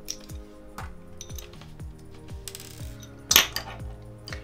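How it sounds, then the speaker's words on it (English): A Phillips screwdriver turns a tiny screw inside a Samsung Galaxy Watch Active 2 smartwatch, a rapid series of faint metallic ticks and clicks close up, with one brief louder rattle near the end. "get your Phillips screwdriver"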